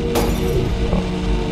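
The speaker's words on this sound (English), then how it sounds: "Every light I walk under shatters." An overhead light bursts in a Backrooms video game: one quick, bright shattering crack near the start over a constant low buzzing drone, followed by a fainter second tick, no voices.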